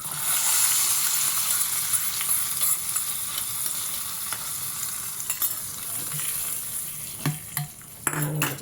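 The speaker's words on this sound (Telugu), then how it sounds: "ఇది తాలింపు వేసేసుకుంటాను అనమాట" A talimpu tempering for buttermilk rasam sizzling hard in hot oil, a loud, continuous crackle up close with a few sharp clicks and spatters near the end, no voices.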